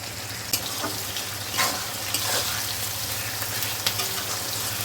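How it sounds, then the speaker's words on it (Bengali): Chopped onion with salt fries in a pan for a Bengali bhetki fish-bone chorchori, a steady close sizzle punctuated by a few stirring knocks and scrapes, with a low hum underneath and no speech. "পেঁয়াজ কুচি দিচ্ছি নুন দিচ্ছি"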